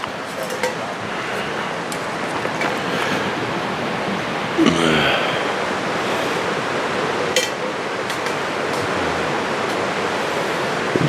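A river rushes in a continuous broad wash, heard up close and steady from start to finish, with a few faint clicks and brief knocks over it.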